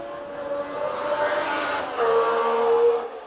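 A Formula One car howls past at speed during the 1972 French Grand Prix at Clermont-Ferrand, its engine tone rising and then dropping as it passes over a few seconds.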